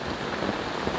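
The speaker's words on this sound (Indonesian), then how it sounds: "Ini situasi hujan." Heavy rain pours down steadily outdoors around a biopore hole in the ground, a dense, close, unbroken patter with no voices.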